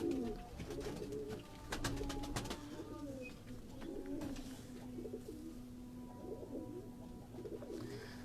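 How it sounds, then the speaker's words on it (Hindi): Pigeons on a rooftop loft, including Sialkoti and other breeds, coo in soft repeated rolling phrases close by, with a few faint chirps, light handling noises and a steady low hum beneath. "ये कीड़े वाले कबूतर हैं जी इनके।"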